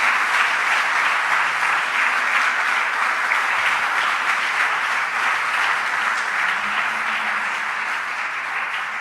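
A church congregation applauds loudly during an evening sermon, a dense, sustained roar of clapping that fills the room from start to finish and tapers only slightly at the end.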